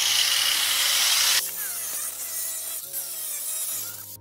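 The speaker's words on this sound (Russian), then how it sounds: "Муж пильнул подоконник." A porcelain stoneware windowsill being cut with a disc: a loud, harsh, high grinding screech for over a second, then a lower whirring as the tool runs on, close up with no talk.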